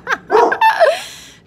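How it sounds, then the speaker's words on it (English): A few sharp dog barks in quick succession, close and fairly loud, then fading into a brief tail. "dogs be barking"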